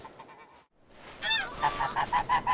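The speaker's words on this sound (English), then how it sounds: "Those are all snow geese" Snow geese honking in the hunting game Hunting Simulator 2, a flock calling in a rapid series of loud, close honks after a brief quiet gap, with no talk.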